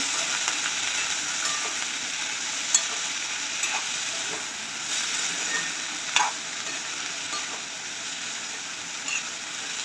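Cluster beans being stirred in a hot pan, a steady sizzle of frying with scattered scraping clicks from the spoon, close and continuous with no voices.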